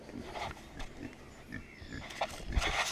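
Pigs grunt and snuffle in a pen, with short low grunts recurring irregularly at close range, plus a few louder snorts toward the end, over a rustling background.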